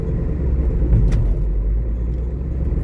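Ford Transit van with a misfire and suspected transmission trouble, engine droning steadily in drive gear, a continuous low rumble close by with no speech over it.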